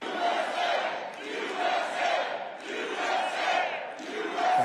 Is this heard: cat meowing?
no